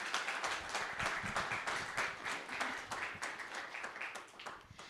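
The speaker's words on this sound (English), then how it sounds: "May I have a huge round of applause" Audience at a litigation forum in Dubai applauds its panelists with dense, steady clapping that fills the hall for several seconds, moderately loud and without a break.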